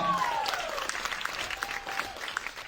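A comedy festival crowd applauds and cheers for nurses, the clapping moderately loud but somewhat diffuse, with a whistle or shout rising over it at the start.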